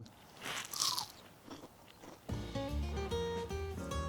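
A bite into crunchy triple-fried fries gives a close, crisp crackle and a few crunchy chews over about two seconds, and then tonal music starts up.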